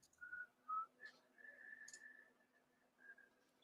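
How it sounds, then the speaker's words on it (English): A person whistles softly nearby, giving a few short clear notes and then a longer held tone with brief breaks, fairly quiet, with no talking. "Quit whistling on stream."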